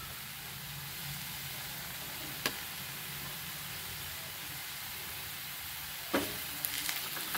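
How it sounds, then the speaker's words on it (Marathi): Onion-garlic masala and chilli powder sautéing in a pan of groundnut amti, a soft, even sizzle running steadily throughout, with a couple of sharp clinks from a utensil near the end. "आता हे सुद्धा आपल्याला छान परतून घ्यायचं आहे"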